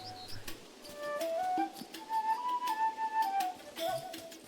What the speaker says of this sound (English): That's the birds.